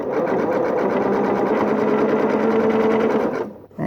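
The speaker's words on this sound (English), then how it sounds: "I've got a zigzag set to 5 wide and 2 long, and I'm just zigzagging these together." A sewing machine zigzag stitching a quilt border, a close, loud, steady whirring run of rapid needle strokes that cuts off near the end.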